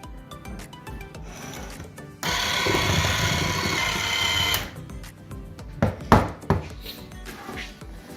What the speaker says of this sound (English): We will whisk the flour and the wet ingredients until it gets crumbly.